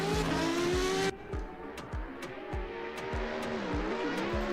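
A Toyota Supra in a virtual drift racing game at Suzuka Circuit howls at high revs, then drops into a rapid, rhythmic series of sharp engine pulses and limiter-like stutters mixed with tire noise, close and loud.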